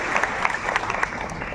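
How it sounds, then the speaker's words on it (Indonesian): An audience at a Bocorocco shoe presentation breaks into brief applause, a dense patter of clapping from a nearby crowd lasting only a moment. "Tepuk tangan untuk Boku Roko"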